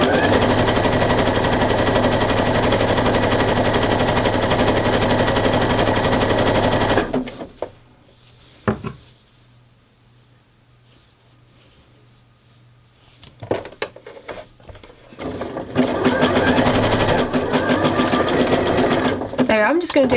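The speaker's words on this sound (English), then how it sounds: "going to do a couple of stitches to secure the end like usual and pull it out" A sewing machine stitches fold over elastic onto a waist opening, running fast and loud, pausing for several seconds with a few clicks, then running again in a dense, steady buzz.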